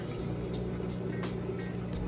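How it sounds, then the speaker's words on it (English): An Amana washing machine drains water out between its wash and rinse cycles, producing a steady, continuous rushing gurgle with a low pump hum throughout, close and even in level. "You can hear it draining that water out nice and fast."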